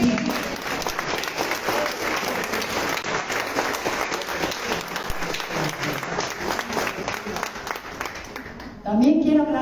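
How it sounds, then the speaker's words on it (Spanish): An art event audience applauds a researcher of a painter's work with a long, even round of clapping, dense and fairly close, that fades near the end as a voice begins speaking. "Yo pido un aplauso por él."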